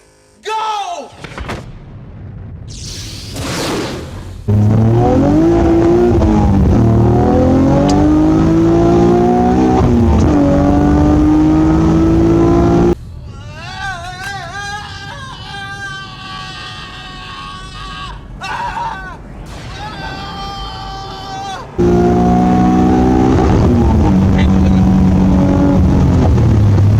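A $500 Nissan Maxima with a new exhaust and map tune accelerates hard through the gears, engine revving up in rising sweeps with shifts between pulls, loud from inside with occupants shouting.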